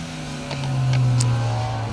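A Peugeot 205 rally car passes on a rally stage, its engine note rising and swelling to a loud, close peak mid-way before easing slightly, with a steady droning tone throughout.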